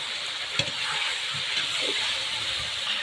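Chopped tomatoes sizzling in frying spice paste with turmeric, a steady close hiss with a small clatter near the start.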